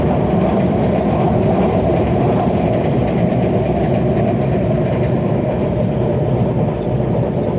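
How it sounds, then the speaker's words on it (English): A Washington D.C. Metro 7000-series train passes close by with a loud, continuous rumble and roar that holds steady with no break. "Those are the Model 7000s, new trains that have come from France to the Washington D.C. metro area"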